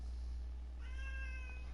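A cat gives one clear meow partway through, sustained and tonal, against a constant low background hum, with no speech.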